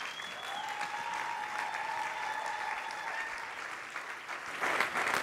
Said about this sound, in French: vous lever et l'accueillir avec des acclamations